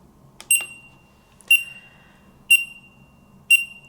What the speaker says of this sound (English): It beeps approximately every 1 second during normal operation